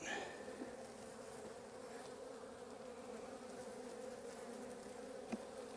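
Honeybees buzz in a steady, close droning hum while a hive frame is handled and the bees grow agitated, with no talking.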